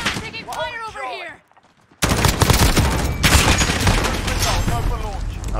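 Dense rapid gunfire and bursts from a Call of Duty Modern Warfare Ground War match, loud and continuous after a brief lull, with someone speaking over the shooting at the start.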